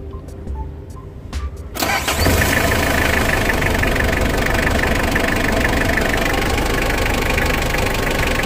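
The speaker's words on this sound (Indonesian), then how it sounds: "Kita tes dulu hidupin mobilnya." A car engine cranks and catches after a brief quiet start, then settles into a loud, steady close-up idle.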